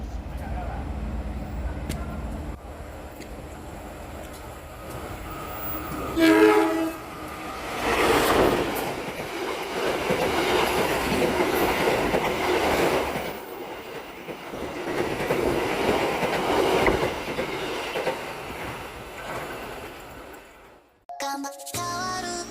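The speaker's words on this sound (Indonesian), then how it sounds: "akan melintas di stasiun Mangli" The Probowangi passenger train rumbles through Mangli station in Indonesia with a horn blast and rhythmic clattering wheels, loud for many seconds before fading; a voice speaks faintly underneath.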